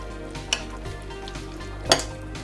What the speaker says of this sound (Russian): Все это хорошо вымешаю.